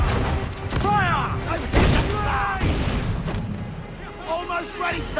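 Ship cannons boom in a naval battle in Assassin's Creed Black Flag, with repeated heavy thuds and crackling blasts around shouted crew orders and game music.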